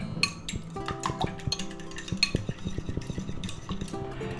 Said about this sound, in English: Now we're going to beat that up a little bit.